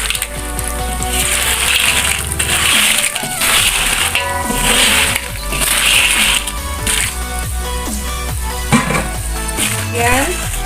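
Fried potato chips and crispy salted fish being tossed and stirred together in a pan for a Padang-style balado snack, giving a steady dense crunching and scraping rattle throughout, with talk over it.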